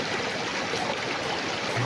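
Water from a rocky river stream rushes steadily and close by, a continuous broadband wash with no break over the short stretch.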